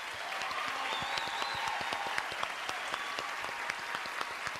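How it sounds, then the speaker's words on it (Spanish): A studio audience at a children's singing competition applauds a young singer, with dense, steady clapping and some sharper individual claps throughout, faint voices and cheers faintly threaded beneath. "El aplauso para Francesca."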